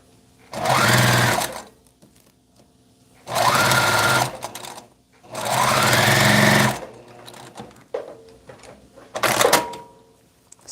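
A sewing machine stitching a shirt runs in three close, loud bursts of about two seconds each, then gives a shorter final burst, with quiet handling sounds in between.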